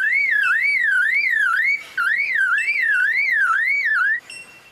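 A lyrebird mimics an electronic alarm system, giving a loud, close warbling siren that rises and falls in a steady cycle, with a brief break near the middle, then stops abruptly.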